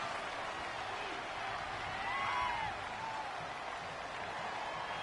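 Stadium crowd roaring in a PS4 football video game, a steady loud wash of cheering and noise with a brief swell midway, home fans drowning out the offense before a third-down snap.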